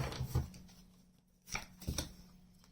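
Tarot cards are shuffled close by in a few short, soft bursts of riffling and slapping, separated by quiet pauses.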